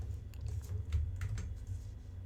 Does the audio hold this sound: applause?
no